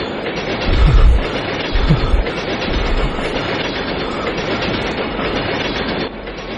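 Inside a rolling train carriage the wheels drum on the rails in a loud, steady rumble, with heavy low thumps of clickety-clack near the start and a constant rattling roar after that, no voices present.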